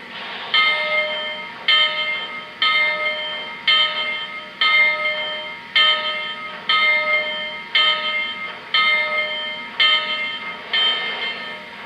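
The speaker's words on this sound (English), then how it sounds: "now let's check out the bell." A Lionel 2-8-2 Heavy Mikado model steam locomotive bell rings steadily, about one clang per second, each strike ringing out and fading, close and clear with nothing else.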